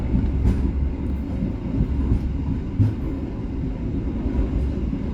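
Steady loud rumble and rattle of the Sancaka Utara business-class passenger train rolling along the rails, heard from inside a carriage, with a few soft rhythmic wheel thumps over track joints.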